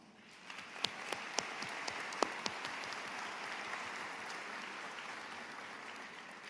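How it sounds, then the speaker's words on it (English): Steady applause fills a large room at a high school graduation, a soft wash of many hands with a few sharper, closer claps standing out early on. "Please give them a warm round of applause."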